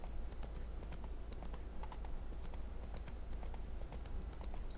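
Hooves of Roach, a horse in the video game Witcher 3, clip-clopping in a steady trotting rhythm over a low ambient rumble, quiet and continuous.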